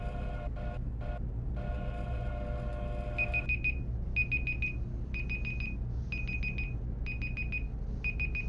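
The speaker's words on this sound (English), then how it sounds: "That's our timer for the video." An electronic timer alarm rings close by, first with steady tonal beeps, then settling into repeated bursts of four rapid high beeps at a regular rhythm over a low background hum.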